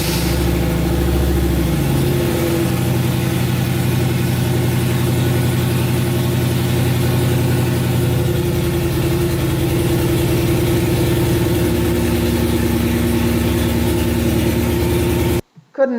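A modified Ford Ranger engine turns over, catches and settles into a steady, loud, rumbling idle that holds for about fifteen seconds before cutting off abruptly.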